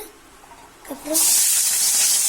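Onion and garlic dropped into hot oil for radish chutney, a sudden loud hissing sizzle that starts after a short quiet moment and stays strong and steady, close up.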